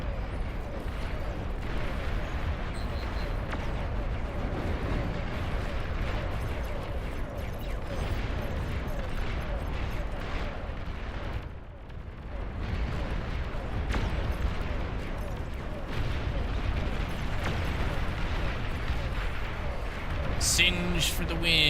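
Rumbling bombing-run explosions fill a video game battle, a dense continuous roar of blasts and low booms with players talking over the top throughout.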